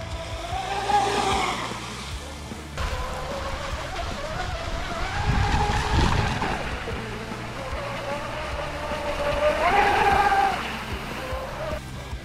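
A brushless ProBoat Blackjack 24 RC catamaran runs across choppy water, its high-pitched motor whine rising and falling as it passes and turns, with surges near the start, middle and end.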